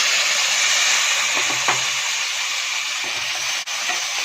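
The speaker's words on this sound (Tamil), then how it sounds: "ஆட் பண்ணிட்டு இந்த மசாலாவோட நல்லா இதையும் மிக்ஸ் பண்ணிக்கோங்க" Boiled carrots, beans and peas stirred into a frying masala in a pan: a steady, close sizzle with a few soft scrapes and knocks of the spoon.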